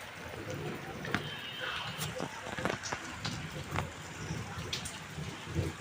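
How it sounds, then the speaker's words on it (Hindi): Heavy monsoon rain falling outdoors near a gate and boundary wall, a steady hiss of drops with scattered sharp splashes and ticks, fairly faint and continuous, with people talking over it. "बारिश तगड़ा हुआ है वैसे"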